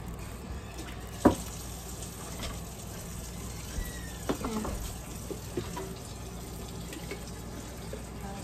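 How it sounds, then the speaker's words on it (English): Water runs from a tap into a sink, a soft continuous splash broken by a few light clinks and knocks. "I'll put just a tad of water, hot water in those."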